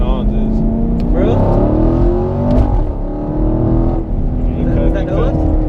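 Supercharged car engine with a modified supercharger, revved repeatedly at close range, with rising whine tones and engine roar as people talk over it.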